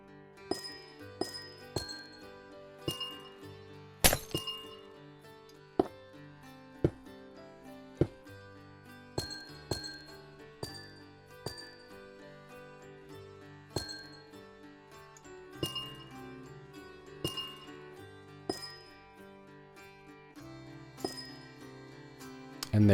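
Blocks are placed in Minecraft while building a purple fantasy tree, amethyst buds and purple stained glass panes going in one after another as glassy clinks and taps, repeated through soft background music.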